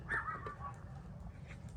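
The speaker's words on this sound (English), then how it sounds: "now all of our dogs are out here" A dog gives a couple of short, faint yips and whimpers outdoors at a distance, the sound thin and brief above a low background rumble.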